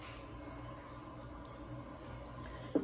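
Water flows and trickles quietly inside an Electrolux LTA15 15.2 kg direct-drive washing machine running its Turbo AquaJet cycle, a soft continuous wash with a small splash near the end.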